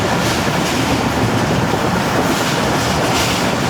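Pakistan Railway 33UP Pak Business Express running at speed, a steady dense roar of wheels and rushing air that stays loud and unbroken throughout, heard close from on board with no talk.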